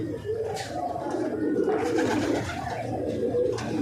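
Pigeons in a home loft give soft, low, continuous cooing, close by, with possible faint voices in the background.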